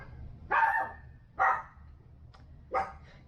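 A female dog barks three times in a dark yard at night, each bark short and mid-pitched, spaced about a second apart, heard at moderate distance over a low steady background rumble.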